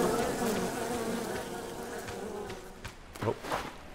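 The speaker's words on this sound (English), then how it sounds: "Oh, looks like the bees moved to that tree." Swarming bees hum around a tree in the video game Len's Island, a continuous close buzzing drone that holds steady, with a few soft thuds and footstep-like bumps toward the end.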